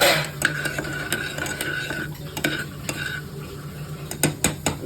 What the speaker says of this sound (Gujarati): આ રીતે થોડું થોડું ચમચાથી હલાવીશું